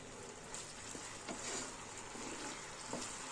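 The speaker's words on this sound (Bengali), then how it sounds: "এই ফুলকপিটা দিয়ে দিলাম, ভালো করে একটু নেড়ে নিই।" Cauliflower is stirred in a sizzling pan, a soft steady frying hiss with occasional scraping knocks of the spatula, close and faint, with no talk.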